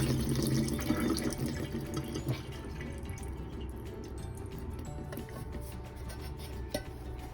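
Liquid poured from an opened can while making pozole, a steady trickling, dripping pour close by that runs throughout with faint splashes.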